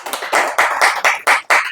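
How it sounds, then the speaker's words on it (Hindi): Audience in a Hindi-language talk session clapping in short, uneven bursts, several loud pulses of group applause at close range with no voices over them. "तालियां बजाओ भी सारे इसके लिए।"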